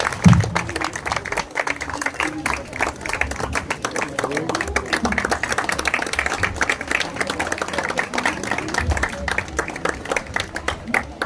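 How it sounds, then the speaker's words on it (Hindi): Congregation applauding at an Easter church service, a steady wash of clapping running throughout at moderate volume, with voices mixed faintly into the crowd. "अपनी जोरदार तालियों से"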